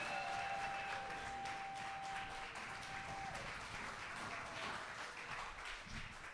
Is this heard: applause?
yes